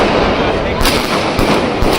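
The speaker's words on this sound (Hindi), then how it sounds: "तो आतिशबाजी देखिए किस तरीके से पटाखों के साथ वहां पर की जा रही है।" Dense celebratory firecrackers burst continuously outside a politician's residence after the 2024 Maharashtra election results, loud, near and overlapping into a steady crackling roar with a few sharper bangs.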